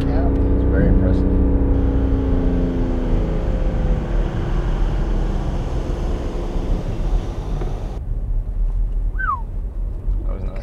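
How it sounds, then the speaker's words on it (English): A Cummins 6.7 diesel truck descends a hill at about 30 mph carrying around 20,000 as its exhaust brake engages, giving a steady, loud, low drone mixed with wind noise and voices. "So you can hear the exhaust brake coming in now."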